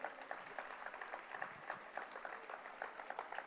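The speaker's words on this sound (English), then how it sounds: "Can we please give them a round of applause?" Applause from a conference audience at a financial inclusion policy forum, given to honor a central bank. Steady, dense clapping from many hands carries through the whole clip at a moderate distance, with faint crowd murmur underneath.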